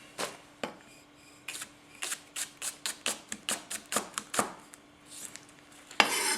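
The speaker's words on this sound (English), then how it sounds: "So, we'll just chop through this." Green onion chopped on a board with a 210mm Teruyasu Fujiwara gyuto of hard white steel, giving a steady rhythmic run of crisp knife taps, close and clear, that slows and breaks off near the end.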